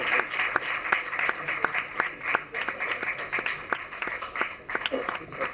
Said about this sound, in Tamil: பலத்த கரகோஷங்களுடன்